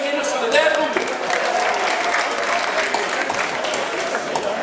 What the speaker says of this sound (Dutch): Applaus voor de kinders van de derde ronde.